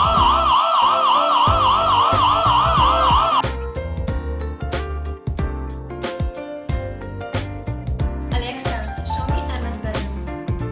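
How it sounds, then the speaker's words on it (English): Loud wailing alarm siren sounds from an imou Q2 wifi security camera, a steady warbling tone that cuts off after about three seconds and gives way to other sound. "plays a loud siren to scare"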